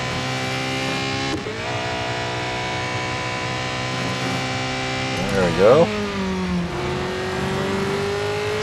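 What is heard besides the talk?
race car engine revving in Real Racing 3 video game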